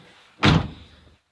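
A single heavy Geo Metro car door slam, close and sharp, with a short rumbling decay afterward; no voices.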